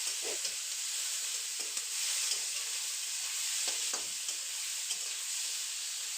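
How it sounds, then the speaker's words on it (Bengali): Onions frying in hot oil with garam masala give a steady close sizzle and hiss, with a few soft stirring scrapes breaking through, no talking. "পেঁয়াজটা একটু লাল লাল করে আগে ভেজে নিই।"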